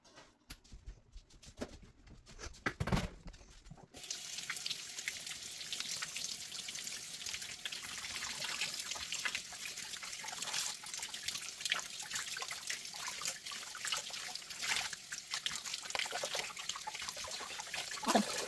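Luffa sponges are washed in water, with a few brief sloshes at first and then a steady, faint splashing and trickling that continues throughout, nearby and without talk.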